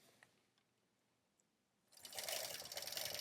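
A sewing machine stitching a half circle starts after a quiet pause, then runs as a fast, even mechanical whir, close but fairly soft.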